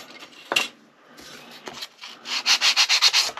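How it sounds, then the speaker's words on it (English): A small wooden piece for a book nook has its edge sanded by hand in a few short scrapes, then a quick series of rhythmic rubbing strokes, close and clear with no talk. "Go ahead and sand the edge a little bit here."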